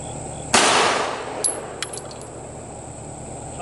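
A single sharp, loud shot from an ATI M1911 .45 pistol firing aluminum-case rounds, followed by a ringing decay and a few faint metallic clinks of brass or parts.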